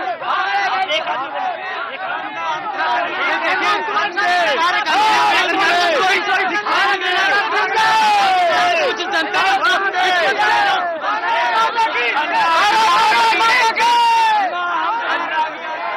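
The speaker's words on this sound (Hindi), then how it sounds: "अब ये वो भीड़ है जिसे कैमरे के सामने कम से कम नियंत्रण करना बहुत मुश्किल है" A large, dense crowd at a rally in Ramlila Maidan, Delhi, chatters and shouts loudly and continuously, with overlapping voices and occasional cries forming a thick, unbroken roar close around.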